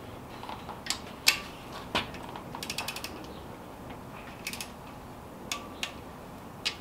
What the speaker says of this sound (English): So I got my 1/4 inch torque wrench set on 4 Newton meters.